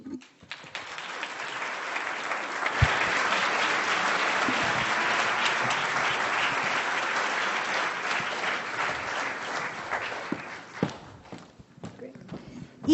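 Audience applause welcoming student teams onto the stage at a business pitch competition: sustained crowd clapping that swells and holds, mixed with footsteps, then fades into scattered claps and thumps near the end.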